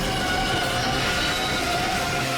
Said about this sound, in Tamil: எதிர் திசையில இன்னொரு ட்ரெயின் வருது.